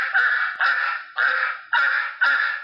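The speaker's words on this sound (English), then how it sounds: "The sound of those rabid ducks tells us that once again it's time for Let's Talk About" Quacking of rabid ducks as a comic sound effect: five loud, harsh nasal honks in a steady rhythm, close and alone with no talking.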